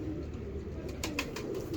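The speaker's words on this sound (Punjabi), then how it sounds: "ਇਦਾਂ ਦੀ ਕਬੂਤਰੀ ਆ ਮਾਸ਼ਾਅੱਲਾ" A female Teddy breeder pigeon gives a soft, low coo close by, brief and quiet against faint background hiss.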